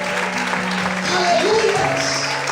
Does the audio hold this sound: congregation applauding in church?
yes